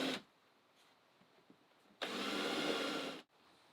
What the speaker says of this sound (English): Countersink the holes for the joystick so the overlay will fit over the screw heads.